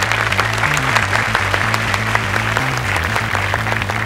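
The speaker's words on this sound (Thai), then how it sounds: "ขอเสียงปรบมือดังๆเลยนะครับ" Loud, continuous audience applause at a Thai innovation awards show, dense clapping over a steady repeating background music line, with no speech on top.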